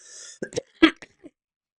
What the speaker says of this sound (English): I'm going to do a lot of coughing